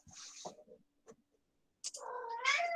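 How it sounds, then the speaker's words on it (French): A small pet cat meows with hunger, a few short calls followed by a longer, louder drawn-out meow, close by in a quiet room with no talking. "si vous entendez des miaulements, ne vous inquiétez pas, c'est mon petit chat qui commence à avoir faim"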